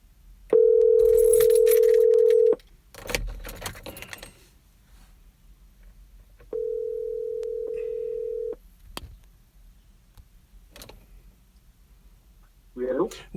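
A telephone dial tone sounds in two long, loud steady beeps while a call is being placed, separated by handling clatter and a brief pause, with a voice speaking between them.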